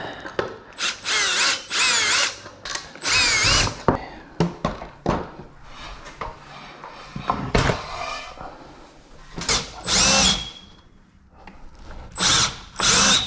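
Power drill driving lag bolts into wooden boards during a garage overhead hardtop hoist install for a Jeep Wrangler, in repeated loud bursts of whirring with short pauses between, close by.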